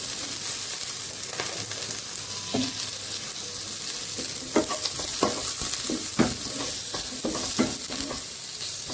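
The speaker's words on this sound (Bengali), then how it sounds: "গ্যাসটা একদম কমে দিয়ে একটু ভাজি ভাজি করে নিতে হবে।" Tomatoes and onions fry gently in a pan over a low gas flame, giving a steady soft sizzle broken by frequent clicking stirs and scrapes from a spatula. The sound is close and moderately quiet.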